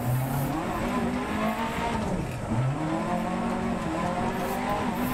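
A rally car engine in the racing video game Dirt Rally 2.0, revving and shifting gears with rising and falling pitch and faint tyre noise, loud and continuous, with no talking.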